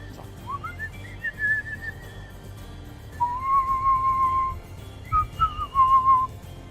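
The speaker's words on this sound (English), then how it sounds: "You hear that guy whistling?" A person whistles a few long, wavering tonal phrases at moderate distance, with pauses between them over a low background hum.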